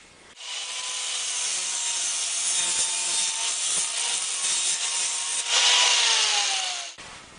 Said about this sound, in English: I'm going to cut this off here so that I have like 1 2/3 of a ball cage in here to get the right length